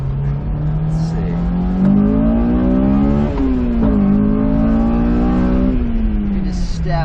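Honda S2000 engine revving while driving, a loud steady whine that climbs in pitch, dips at each gear change and climbs again, heard close from inside the car.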